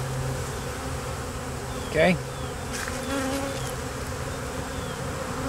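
Agitated honey bees swarm around an open hive in the rain, a dense, continuous buzzing close by, with one bee droning loudly past and a brief word spoken under it.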